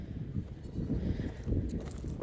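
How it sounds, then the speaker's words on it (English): Bleating of young goats, a few short wavering cries over low rumbling background noise, moderately close and somewhat muffled. "I hear baby goats."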